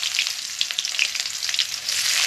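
Garlic frying in hot oil on a home stove as chopped ginger is about to go in, a steady loud sizzle with crackling spatters throughout, no voices.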